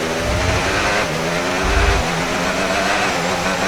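Formula 1 race cars in an F1 video game sprint race, a steady roar of high-revving engines running continuously with brief low rumbles, loud and close throughout.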